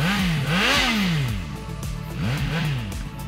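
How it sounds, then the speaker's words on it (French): A 2025 CFMOTO 675SS motorcycle with an underbody exhaust revs hard, its engine pitch climbing and falling in repeated loud sweeps, close and aggressive, with no talking. "une sonorité aussi avec l'échappement sous le dessous qui est vraiment enivrante quand on pousse la machine"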